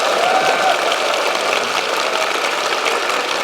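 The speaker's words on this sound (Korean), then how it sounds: "박수 한번 부탁드리겠습니다." Loud, dense applause from a large crowd at a political speech rally, a steady wash of many hands clapping without a break.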